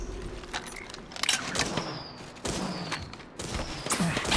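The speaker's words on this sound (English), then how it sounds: "I am taking fire, friends." Gunfire in the Apex Legends video game aimed at the player, arriving as several sharp bursts and thuds over a busy mix of game noise, loud and close.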